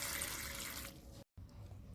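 Water poured from a tumbler into a pressure cooker holding pigeon pea pods, a steady gushing splash for about a second that then thins and cuts out briefly before a quiet trickle.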